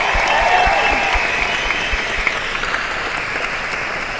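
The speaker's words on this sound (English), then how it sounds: "So a big round of applause for Russell" Convention audience applause for Russell at a 50th celebration panel, a large crowd clapping in a sustained, dense roar that fades slightly toward the end.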